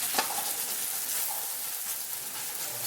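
Corn kernels sizzle on high heat in a hot, well-seasoned pan, giving a steady, dense crackling hiss at close range with no talk over it.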